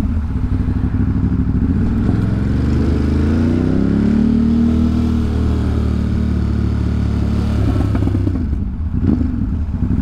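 A motorcycle ridden through Manhattan traffic, its engine droning loudly and steadily with a rising rev in the middle and some clatter, heard close up from the rider's position.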